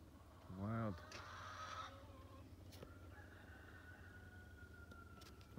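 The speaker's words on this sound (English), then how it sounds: "Oh, the roosters are coming back to life again." A rooster crows once, loud and clear, as daylight returns after a solar eclipse in rural Walsingham, Ontario near Lake Erie, followed by faint distant background hum and a quiet voice.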